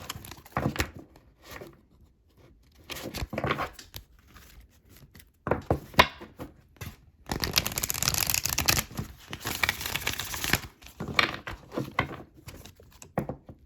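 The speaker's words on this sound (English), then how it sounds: "So we're just going to do a couple of shuffles here for Capricorn." Oracle cards are shuffled by hand in several rounds of soft, papery riffles and slides, close and fairly quiet, separated by short pauses.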